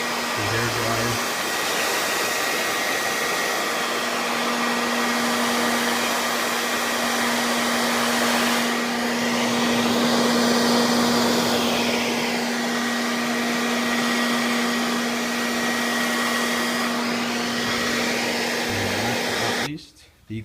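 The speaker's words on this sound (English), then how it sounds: "Once again, the hair dryer." A hair dryer blowing over a plasti dip coat, a loud steady whine and rushing air that runs without pause for about twenty seconds before cutting off.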